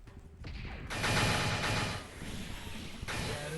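Bursts of gunfire in Gundam Battle Mobile crackle in rapid sequence with abrupt starts and stops, loud and dense, with no voices.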